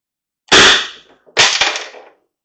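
A First Strike projectile fired from a launcher using 8.2 rubber steel-core walls, giving two loud close sharp bursts of air about a second apart, each with a brief hissing tail.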